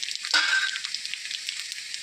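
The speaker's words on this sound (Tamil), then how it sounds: "ஒரு கொதி வந்த பிறகு ஒரு தாளிப்பு கொடுத்துக்கலாம்" Mustard seeds, cumin, fenugreek and dried red chillies sizzle in hot oil for a sambar tempering, a steady close hiss with a brief crackle near the start.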